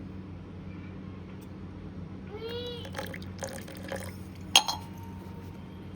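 Water poured from above into a potato bonda batter mixed with baking soda, a short trickling splash near the middle followed by a few light drips and a sharp clink near the end.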